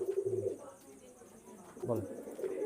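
Pakistani Jaldar pigeons, a hen and a cock, coo in low repeated bursts near the start and again toward the end, close by over a quiet room.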